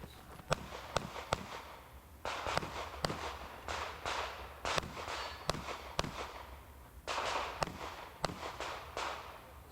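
Pistol shots crack out at a USPSA carry optics competition at an outdoor rifle club, a dozen or so sharp reports in uneven bursts and pairs, with footsteps and movement between strings of fire.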